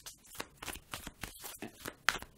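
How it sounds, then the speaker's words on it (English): Tarot cards being shuffled by hand, heard as a quiet run of repeated crisp riffling bursts in an uneven rhythm, close to the microphone, with no talking. "before we finish shuffling for a second"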